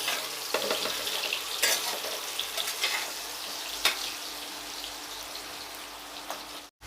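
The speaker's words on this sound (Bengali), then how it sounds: "তো এখন আমি পেঁপেটাকে হালকা করে ভেজে নেব।" Papaya pieces frying lightly in white oil in a pan, a steady close sizzle with scattered crackles and a few sharp utensil clicks as they are stirred, with no talk.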